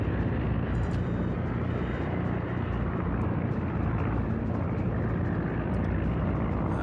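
Torpedo bomber aircraft drone steadily in the World of Warships video game during carrier play, a continuous loud propeller-engine roar with no break across the whole stretch.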